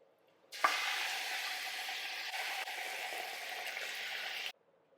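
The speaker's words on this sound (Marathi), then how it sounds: "या मसाल्यामध्ये चिकन चांगलं परतायचं" Marinated chicken hits hot onion masala for a chicken biryani and sizzles loudly at once, keeping up a steady, close frying hiss for about four seconds before it stops abruptly.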